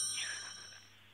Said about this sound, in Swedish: nu är det någon som ringer.